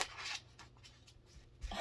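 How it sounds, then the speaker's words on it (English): Tarot cards are shuffled, giving quick papery riffles and soft slaps in short bursts, close but quiet, with no talking. "that was a crazy shuffle."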